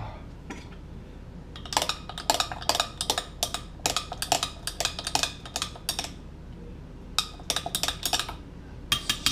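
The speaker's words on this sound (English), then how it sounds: "try to mix it up a little bit" A utensil clinking and scraping against a bowl while food is mixed, in quick irregular bursts of sharp metallic taps with short pauses between them, close and clear over a quiet room.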